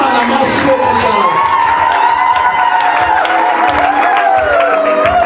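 A church congregation at a healing service cheers, whoops and shouts loudly and continuously, a dense crowd roar of many voices without clear breaks.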